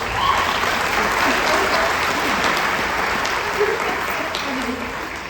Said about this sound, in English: You just applaud at anything.